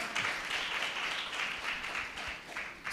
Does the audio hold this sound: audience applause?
yes